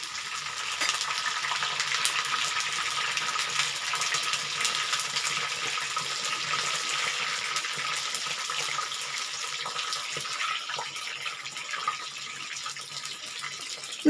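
Soya chunks with curry leaves sizzle and crackle in a frying pan, a steady close hiss with small pops and occasional stirring scrapes throughout.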